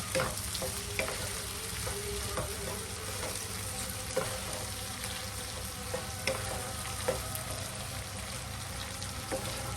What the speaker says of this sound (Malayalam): വഴറ്റാനകത്ത് വറ്റൽമുളകും കൂടെ ഇടണം